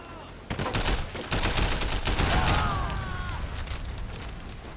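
A dense barrage of gunfire from the video game Sleeping Dogs, rapid automatic shots rattling loudly and continuously for several seconds before thinning slightly toward the end.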